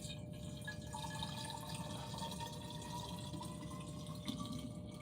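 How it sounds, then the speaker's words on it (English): Water poured into a container during a live stream, a steady close liquid splash and trickle running continuously for about five seconds with no talk. "Pour this water into here like so."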